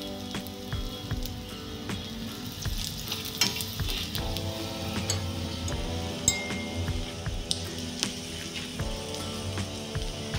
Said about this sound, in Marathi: पुन्हा मी हे थोडं तेल सोडणार आहे आणि खमंग भाजून घेणार आहे